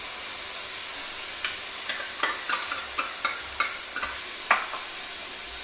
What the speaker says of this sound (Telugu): అల్లం పేస్ట్ వేసుకుంటున్నాను.